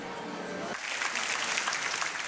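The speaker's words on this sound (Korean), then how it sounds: "드디어 박수 소리와 함께 생애 첫 클래식 공연이 시작된다." Audience applause breaks out as a first classical concert begins, swelling into steady clapping after a brief tonal lead-in.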